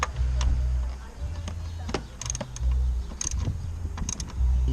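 A socket tool clicks and ratchets in short bursts while tightening ignition coil bolts on a 2012 Nissan Versa engine, close metallic ticking between low mechanical rumbles and handling noises.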